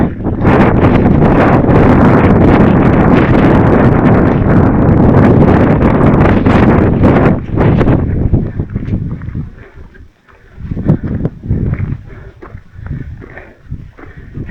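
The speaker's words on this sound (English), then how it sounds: "getting windy again." Strong wind roars across the open top of Merthi Gudda hill in heavy rain, loud gusts battering the microphone for several seconds before easing into lighter, gusty rushes.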